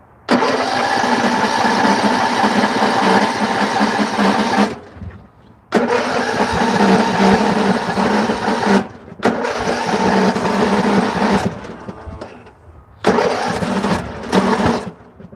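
A van engine cranks and runs in loud, close bursts of churning motor noise, cutting out and restarting several times with short silent gaps between attempts.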